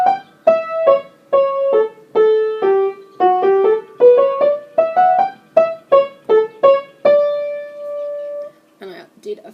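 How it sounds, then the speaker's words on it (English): Piano playing the first four bars of a piece with the right hand only, a clear single-line melody of distinct struck notes with a brief hesitation near the end, heard alone without talking. "So I'm going to play it first, just the first 4 bars and just the right hand"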